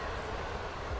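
An Intercity train passes in the MaSzyna train simulator, a steady, loud, broadband rolling roar with a low rumble running throughout the brief moment, with no talk over it.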